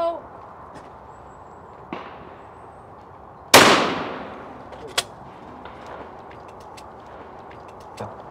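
Shotguns fire at clay targets at a super sporting ground, with one loud, close blast followed by a ringing decay and several fainter distant reports spread across the moment. Quiet outdoor background noise fills the gaps.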